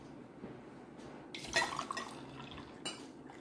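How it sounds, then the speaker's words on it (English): Hot water splashing into a glass, a short close pour that swells around the middle and fades, with a faint clink of glass, over a quiet room background. "And the other one with hot water."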